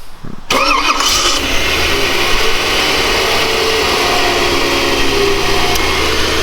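GM Ramjet V8 in a restored Land Cruiser cranks briefly and fires, then settles into a loud, steady idle rumble close by, with no talk.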